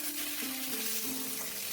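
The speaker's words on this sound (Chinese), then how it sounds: "锅里产生油温时放牛排" Steak laid into hot oil in a pan sizzles steadily, a soft continuous crackling hiss with no voices.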